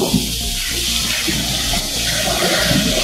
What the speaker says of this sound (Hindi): ये आवाज सुन सकते हैं आप लोग, ये भी एक फॉल है।